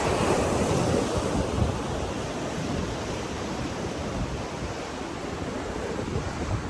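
Steady roar of surf and gusting wind buffeting the microphone at a beach near Castelo do Queijo in Porto, Portugal, a continuous broadband wash with no voices.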